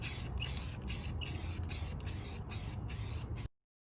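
Spray cans hiss as clear gloss coat goes onto black-painted car rims, eight or so short bursts separated by brief gaps, close and steady before ending abruptly.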